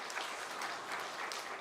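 Church congregation applauding to welcome new members at a Sunday worship service, a short, soft patch of scattered clapping heard from a distance.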